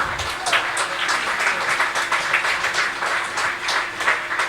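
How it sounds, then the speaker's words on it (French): An audience at the 2007 Bordeaux Grand Prix chess final applauds the winner with a steady patter of many hands clapping at moderate volume, lasting the full few seconds. "on peut l'applaudir"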